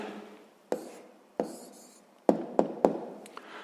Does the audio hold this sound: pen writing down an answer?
yes